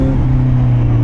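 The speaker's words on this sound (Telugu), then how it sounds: "చూడండి ఎంత స్లో చేసినాము మన ఇంజిన్ బ్రేకింగ్తో" A superbike engine drones steadily and loudly up close with a low, even hum while the rider slows it by engine braking before an unmarked speed breaker. The sound is brief, with no clear change in pitch.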